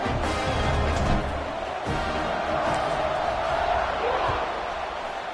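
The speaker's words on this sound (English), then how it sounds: "this crowd is buzzing after that last score" Stadium crowd noise in the NCAA 26 college football video game, a dense continuous roar and buzz of fans with a play-by-play commentator talking over it throughout.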